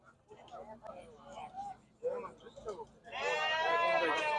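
Sheep at a livestock market in Kyzylorda. People talk, and then a loud, close, wavering bleat rises out of the voices and lasts over a second.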